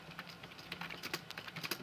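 Fast typing on a computer keyboard during gaming, a quick uneven run of crisp clicking keystrokes close to the mic, with no voice over it.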